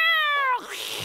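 A cartoon cat gives one loud, drawn-out, high-pitched meow that slides down slightly before breaking into a brief noisy rasp at the end.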